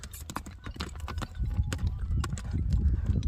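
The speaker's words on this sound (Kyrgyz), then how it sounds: "Мынеки атты көрдүңүздөр, таза кандуу кыргыз жылкысы экен" A purebred Kyrgyz horse brought from Chüy clops its hooves in a steady, close rhythm of sharp knocks that grows louder over a low background rumble.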